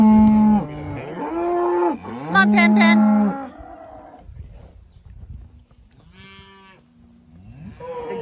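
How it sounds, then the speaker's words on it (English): Cattle walking to a pool give loud, drawn-out moos, several overlapping near the start and more calls trailing off later, with a person calling to them briefly between the lowing. "your cow's being a bother."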